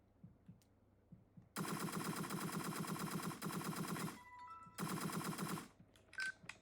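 Rapid automatic gunfire in the video game Entry Point, loud sustained bursts of fast rattling shots broken by short pauses, preceded by a few faint single clicks.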